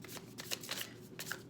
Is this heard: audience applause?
no